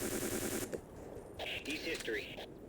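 Full-auto gunfire from a video game weapon mod, with odd echoes, rattles out as a fast burst of rapid shots for under a second before cutting off, leaving fainter game sounds and tones behind.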